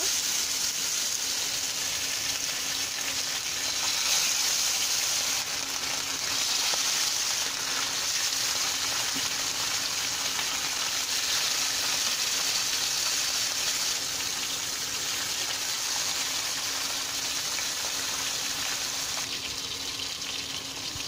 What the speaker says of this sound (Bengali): এখন আমি আস্তে আস্তে করে মাছগুলো দিয়ে দিব।